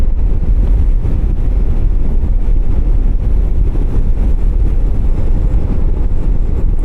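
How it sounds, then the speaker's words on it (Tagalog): Strong wind buffets the microphone in a constant low roar by the Dupinga River in Gabaldon, Nueva Ecija, steady and loud throughout with no talking. "Malakas ang hangin."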